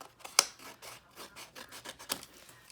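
Excess paper is trimmed off an ornament gift box, leaving a fold of about half to three-quarters of an inch, heard as a close run of soft rasping cuts with one sharper snip near the start, no voices.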